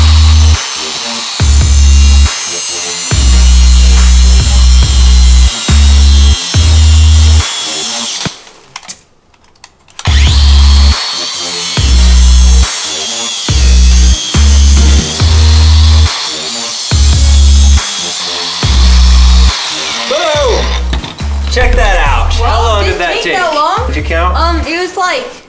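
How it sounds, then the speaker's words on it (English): An angle grinder cuts through a tough Master Lock bike lock, whining loudly in repeated close bursts separated by short breaks and one longer pause, with a rising shriek of cutting near the end. "So, will an angle grinder cut through this master lock?"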